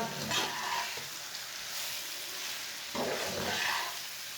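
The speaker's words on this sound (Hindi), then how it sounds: "अच्छी तरह मिक्स करके 2 मिनट के लिए दोबारा भून लेंगे।" Spices and chillies for a mixed pickle fry in a pan, a steady close sizzle with the scraping of stirring that swells briefly at a few points.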